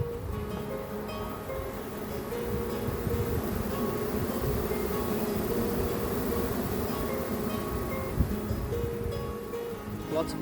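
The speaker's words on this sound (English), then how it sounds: "Lots of pissed off bees." Angry honeybees swarming during removal of a hive from a bedroom wall, a dense continuous buzzing drone close by, with faint handling noises.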